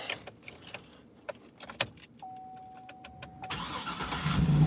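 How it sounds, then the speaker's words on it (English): A truck engine is started in a parking lot: a few clicks and a steady electric tone, then the engine cranks and catches, settling into a louder rumbling idle nearby. "I'll just start the truck"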